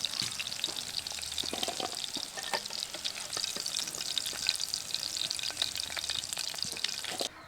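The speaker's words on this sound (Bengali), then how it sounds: "দ্বিতীয় ব্যাচে চিকেনগুলো খুব ভালোভাবে ভাজা হয়ে গেছে" Chicken pieces frying in a pan for chilli chicken, a steady dense sizzle running close and continuous throughout with faint clinks of stirring and no voices.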